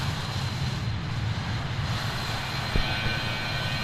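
Steady, broadband roar of an aircraft engine heard from outside the plane in Microsoft Flight Simulator 2020, a loud continuous drone with a faint low thump near the end and no speech.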